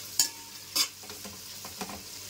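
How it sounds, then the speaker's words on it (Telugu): Onions frying in a pan for mutton biryani, with a couple of sharp stirring scrapes over a low, steady sizzle; no talking. "ఉల్లిపాయలు బాగా వేయించుకోవాలండి."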